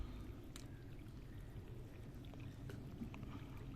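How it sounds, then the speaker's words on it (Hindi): Water poured onto a potted plant after its soil has been hoed, giving a steady soft splashing and trickling that runs close and continuously, with no talk over it. "पानी हम इसको अच्छे से दे देंगे एक बार।"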